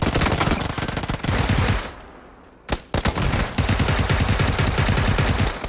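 Rapid automatic gunfire in the video game PUBG, dense bursts of loud shots filling most of the stretch with a short gap partway through.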